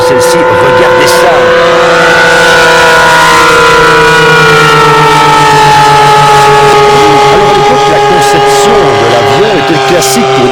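Two piston engines of a Fokker D XXIII push-pull twin-boom aircraft, one pulling at the front and one pushing at the rear, drone loudly and steadily with layered harmonic tones that slowly shift pitch.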